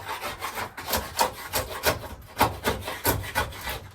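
Repeated rough scraping strokes of a paint scraper stripping peeling paint from a wooden screen door, close and steady, about a dozen rasping passes in quick irregular rhythm with no talking.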